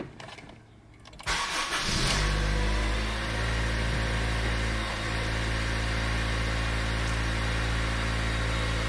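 A 2004 Acura RSX Type-S cranks briefly after a quiet moment, catches and settles into a steady, smooth idle that hums on close by for the rest of the clip.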